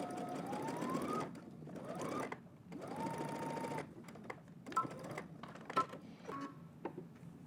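A sewing machine stitches a garment sleeve from the hem upward in several short bursts, each a rising whir of needle strokes separated by brief pauses and small handling clicks, close and moderately quiet.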